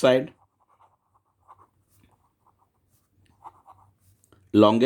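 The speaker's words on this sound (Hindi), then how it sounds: "अब हम लिखेंगे बाय पाइथागोरस" Pen writing on paper while working a Pythagoras maths problem, faint scratchy strokes and small taps in a quiet stretch, with a voice speaking briefly at the start and end.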